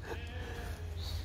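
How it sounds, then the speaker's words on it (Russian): Texel sheep bleat on a farm in the Netherlands, a single close bleat standing out over steady low background rumble. "Да, вон овцы."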